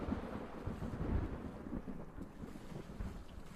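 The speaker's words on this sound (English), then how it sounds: "you hear the distant echo of thunder ring out" Distant thunder rolls low and muffled, a soft rumble swelling and fading under wind-like ambience, with no voices.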